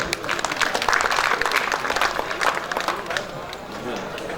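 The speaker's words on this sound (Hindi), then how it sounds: "यार बात अच्छी लगे तो ताली बजाते जाओ" An audience at an educational institution event claps steadily, a broad wash of applause that continues throughout. A voice speaks over the clapping.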